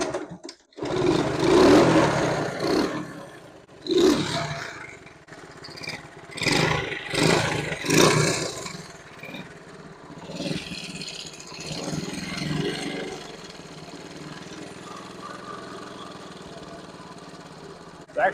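A neglected 1971 Honda CT70H motorcycle engine running after a long layup, a small single-cylinder putter that surges and revs in uneven bursts before settling into a steadier idle.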